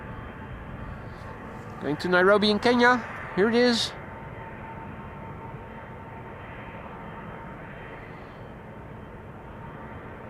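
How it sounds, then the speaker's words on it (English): Boeing 777 jet engines spool up at Amsterdam Schiphol Airport, a steady, distant roar running throughout beneath someone speaking briefly. "I can hear the engines spool up of a 777 in the background."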